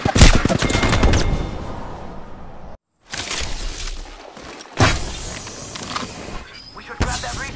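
Heavy video game firefight with sustained bursts of gunfire, loud and dense, broken by a brief silent gap near the three-second mark before the shooting resumes with sharp cracks toward the end.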